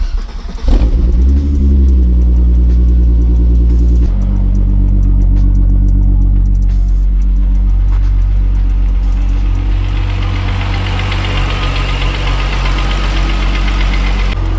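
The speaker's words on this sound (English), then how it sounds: "Shall we hit ourselves a nice cold start this morning?" Cold start of a turbocharged MK3 VR6 Variant engine on a chilly morning: a starter crank, then a loud, close rough idle that settles into a steady drone with a rising hiss.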